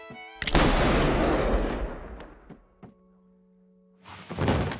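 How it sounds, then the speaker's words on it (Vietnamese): A loud gunshot blast in the video game Card Shark, a sharp crack followed by a long decaying boom, then brief thuds and a faint tone before another burst of noise. "Trong lúc vật lộn, Gabriel đã vô tình bắn chết bà Porterhouse."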